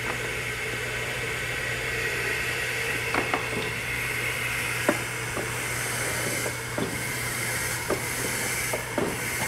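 A steam engine vents a steady, loud hiss of steam with a constant low hum beneath it, broken by a few sharp clanks and ticks spread across the span.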